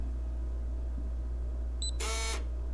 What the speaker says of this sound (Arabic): زي ما انتم سمعتوا كده يعني الكالون فتح معانا دلوقتي